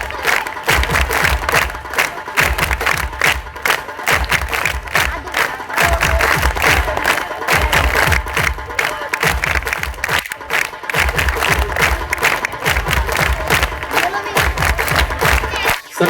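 A crowd claps loudly and continuously for a felicitation at a Marathi film promotion event, a dense sustained applause with some cheering and a pulsing low rhythm underneath.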